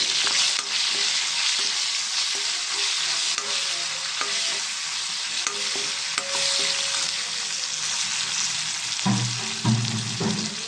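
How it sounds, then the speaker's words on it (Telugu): A tempering of dried red chillies, garlic, cumin, mustard seeds and curry leaves fries in a little oil in a kadai. It gives a loud, continuous close sizzle with occasional stirring scrapes and clinks, and nobody speaks. "ఎండుమిర్చి ఎల్లుల్లిపాయ జీలకర్ర ఆవాలు కరివేపాకు బాండీలో కొంచెం ఆయిల్ వేసి"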